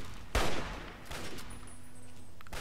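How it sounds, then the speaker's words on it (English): Gunfire in a Fallout 3 shootout: a loud burst of shots near the start, then further bursts and a steady ringing tone over a noisy background, with no talk. "It's a proper shootout, this is."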